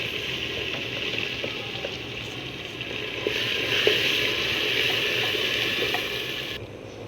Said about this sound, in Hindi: अब इसके अंदर साग डालेंगे।